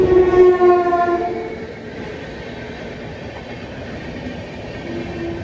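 A train rumbles past close by at a crossing with a steady rolling clatter, heard from a stopped Puri–Tirupati Express, its horn sounding at the start before fading into the continuous roar of the cars.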